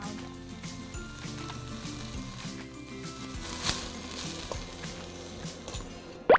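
Mushroom japchae with ginger, sugar and chicken powder stir-fries in a hot pan, a steady close sizzle with occasional scraping and stirring noises throughout.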